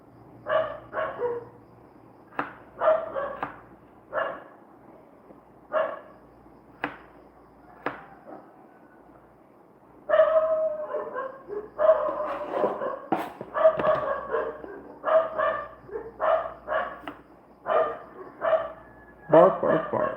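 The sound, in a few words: dogs barking outside in the Philippines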